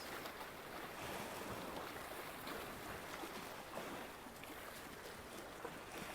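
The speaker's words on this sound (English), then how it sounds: "Maybe you can feel your breath move like the waves behind me." Ocean waves wash in a soft, continuous, broadband rush, faint and steady in the background with a light breeze and no talking.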